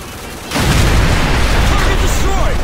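A sudden heavy boom kicks off dense, continuous explosions and gunfire from the Call of Duty: Modern Warfare video game as tanks are destroyed on a bridge, a loud roaring wall of sound with shouted voices mixed in.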